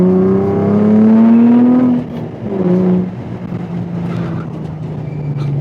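A JDM engine-swapped Nissan 350Z circles a race track, its engine droning loud and close with rising and falling harmonic pitch as it accelerates, eases through slow corners, then pulls again, with no talk.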